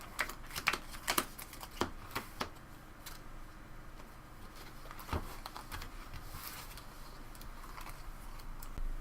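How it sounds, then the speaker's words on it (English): Cards drawn and handled from a deck during a board game, a series of soft irregular flicks and taps near the start, then quieter rustling against faint room noise. "We get another 3 cards from our own deck."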